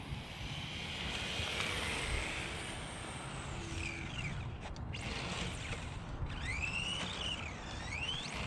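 ARRMA Talion 6S RC car on wet foam tires at a construction site. Brief full-throttle bursts produce rising and falling electric motor whines over steady outdoor background noise.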